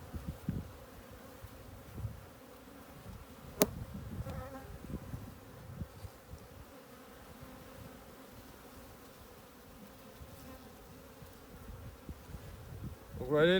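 Honeybees buzz around an open, populous Dadant hive during a hive split, a faint steady drone in the background with occasional handling knocks and clicks.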